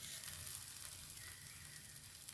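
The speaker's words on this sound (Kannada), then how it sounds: "ಇವಾಗ ನಾನು ಹಂಚ್ಕಾಯಕ್ಕಿಟ್ಟಿದ್ದೆ, ಅದಕ್ಕೇ ಸ್ವಲ್ಪ ತುಪ್ಪ ಅಥವಾ ಎಣ್ಣೆನ ಹಾಕ್ತೀನಿ" Steady, fairly quiet sizzling of a spicy chapati frying in ghee or oil with coriander leaves on a hot griddle, a continuous crackle with no talk.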